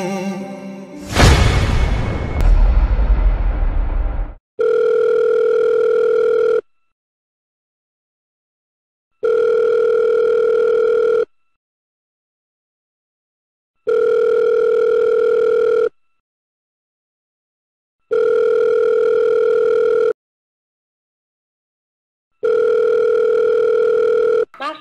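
An unanswered call's ringback tone repeats five times in evenly spaced two-second bursts with silent gaps, after a brief noisy burst at the start.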